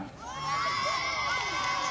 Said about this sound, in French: On les applaudit, on les regarde.